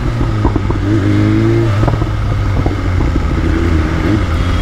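Loud, close revving from a superbike with an Akrapovic exhaust, with short throttle blips and some mechanical clatter over a steady engine rumble.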